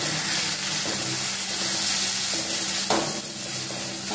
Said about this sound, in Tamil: இந்த ஸ்டேஜில் நம்ம துருவின மாங்காயை போட்டு வதக்க போகிறோம்.